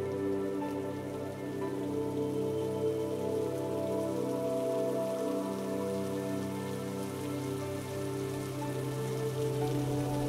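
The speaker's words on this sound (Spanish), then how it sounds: "y una lluvia leve comienza a caer." Steady light rain patters continuously on a surface, an even, unbroken hiss of drops with no voices.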